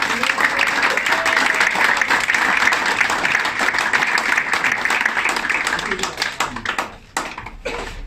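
Sustained audience applause at an event at Le Carnivore restaurant in Madagascar, a dense, loud wash of many hands clapping that thins out near the end into a few scattered claps.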